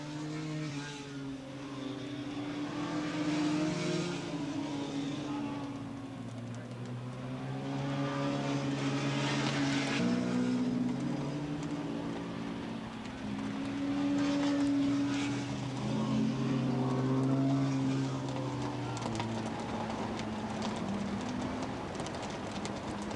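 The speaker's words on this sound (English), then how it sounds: "Still bike number 12 leading the open class, Craig Beecher" Open-class and 750cc stock production racing motorcycles at Willow Springs International Raceway in 1986 produce a continuous engine drone that rises and falls as bikes pass through, heard from a distance and without talk.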